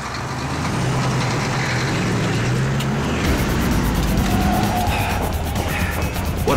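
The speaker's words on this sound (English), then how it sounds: "As soon as we went out of the cemetery gate, the lorry sped up." An engine rumble from a lorry pulling away and speeding up, loud and continuous with a low drone and a rising tone, heard close in a horror audio drama.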